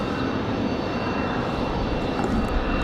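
Airbus airliner on final approach at Raleigh-Durham in gusty wind, a steady broadband engine roar that stays loud and unbroken throughout.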